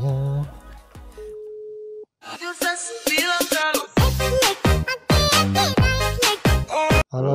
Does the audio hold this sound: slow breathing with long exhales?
no